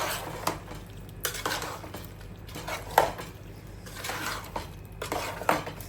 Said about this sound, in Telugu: ఇప్పుడు మొత్తం మంచిగా కలుపుకుందాము.